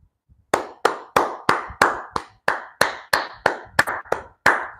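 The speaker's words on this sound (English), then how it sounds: "Clap for Celebration Church for this amazing initiative" Steady, evenly spaced hand claps ring out about a dozen times in quick succession, close and loud, as a church congregation applauds a free school initiative.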